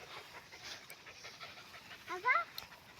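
A puppy pants in quick, soft breaths while out trekking, close but quiet, with a brief squeaky whimper near the end.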